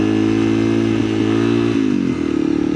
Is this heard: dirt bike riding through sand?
yes